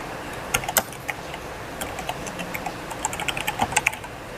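Someone types on a computer keyboard. Irregular clusters of crisp, close keystrokes form a quick burst near the start and a denser flurry toward the end, with no talking.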